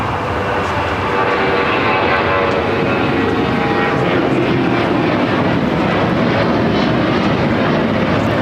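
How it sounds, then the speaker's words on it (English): A Boeing 737-800 jet roars down the runway on takeoff at LAX, bound for Puerto Vallarta, a loud, steady broadband engine rumble that holds throughout with faint voices underneath. "taking off to Puerto Vallarta on a 737-800."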